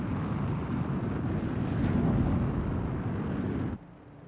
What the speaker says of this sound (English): There's still this weird audio of the C2 thrusters.